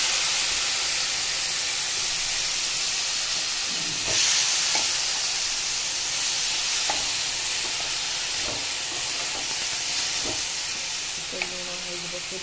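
Chopped vegetables for an Odia cabbage curry (kobi kasa) frying in a pan with cumin, giving a steady broadband sizzle throughout with a few soft stirring knocks and clinks.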